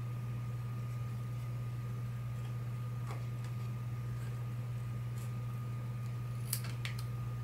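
Scissors snip through coloured paper in quiet, scattered cuts, faint and close, with no talking.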